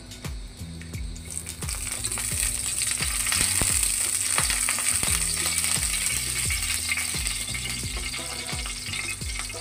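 Bay leaves and dried red chilies sputter in hot mustard oil, a loud steady sizzle with crackling pops and a rattling, ratchet-like clatter running throughout, no voices.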